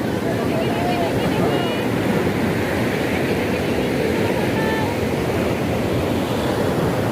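Sea waves wash steadily onto the shore at Puri beach on an afternoon, a continuous loud surf roar with wind buffeting the microphone throughout and no distinct breaks.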